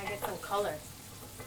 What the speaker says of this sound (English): Frying it out.